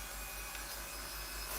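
Sandpaper of 3200 grit rubs against a wooden pen or pencil, producing a faint, steady hiss with soft repeated strokes and no talking.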